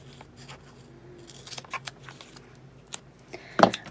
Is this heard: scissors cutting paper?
yes